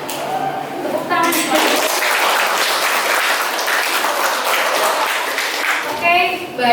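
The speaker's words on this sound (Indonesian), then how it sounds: "Tepuk tangan." Applause from students in a classroom, a dense burst of clapping lasting several seconds that fades out, with brief talk at the start and end.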